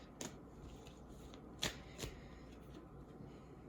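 Tarot cards are shuffled and drawn by hand, quiet and close, with a few soft riffles and crisp slaps of cards standing out from a faint rustling background.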